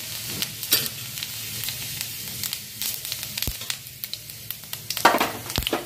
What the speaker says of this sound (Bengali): এবার এই তেলে আমি একটুখানি সাদা জিরে ফোড়ন দেবো।